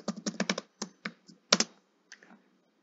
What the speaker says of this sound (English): You'll press your enter key, and on the next line, just below that, you will type in, you've done your location.